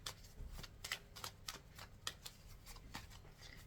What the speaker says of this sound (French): Et je passe au second tirage avec l'oracle Lenormand.